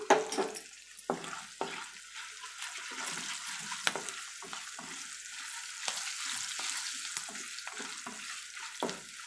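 Spices with asafoetida powder and turmeric fry in a pan for lemon rice, giving a steady soft sizzle broken by a few sharp scrapes and clinks of stirring, with no one talking.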